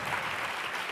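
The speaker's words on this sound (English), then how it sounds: "can we give a huge round of applause for our panel?" An audience at a women's health panel event applauds in a short, dense, steady wash of clapping with no pauses.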